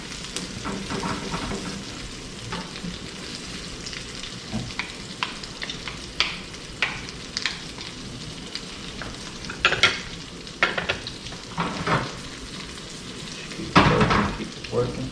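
Thai-style crab and egg omelet with lump blue crab meat frying in a pan, a soft steady sizzle broken by scraping stirs and clanks of a utensil, louder bursts toward the end.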